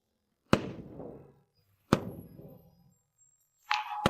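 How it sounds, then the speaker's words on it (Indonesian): Two sharp fireworks bangs a second and a half apart, each trailing a crackling rumble, followed by a third burst with a whistling tone. "Itu kembang api."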